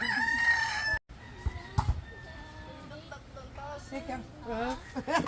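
A rooster crows and a chicken clucks close by at a home yard, with people talking over and between the bird calls.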